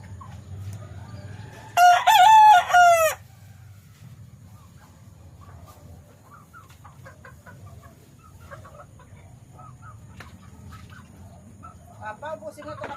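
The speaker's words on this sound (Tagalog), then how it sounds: "Si Bossing, oh, busy-busy sa kanyang manok" A rooster lets out one loud, close crow, then chickens keep up scattered soft clucks through the rest of the scene, with faint talk in the background.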